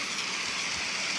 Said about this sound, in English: Yeah, it rains for a while.